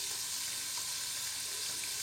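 Small cubes of leftover samosa pastry frying in a pan, a steady even sizzle with no strokes or voices.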